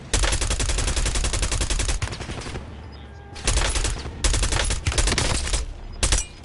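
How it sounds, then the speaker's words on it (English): Call of Duty Warzone gunfire: long, loud bursts of rapid automatic fire close by, broken by short pauses, with no talk over it. "I'm under fire."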